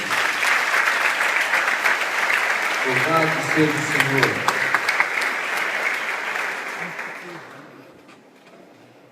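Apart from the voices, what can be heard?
congregation applause in church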